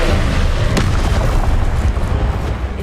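A Confringo explosion spell in Hogwarts Legacy, played on PS5, sets off a loud, dense booming blast that rolls on without a break and stays close and heavy, with no voices.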